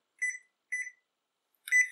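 Electronic timer lock giving two short beeps followed by a longer, louder beep as it is set, close by and clear with silence between the tones.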